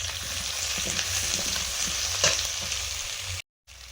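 Lightly fried potatoes with cumin and onion sizzling in a pan, a steady close crackle with occasional stirring scrapes, cutting abruptly to silence near the end before resuming briefly, no voices.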